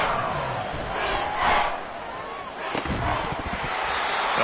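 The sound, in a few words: stadium crowd in Madden football video game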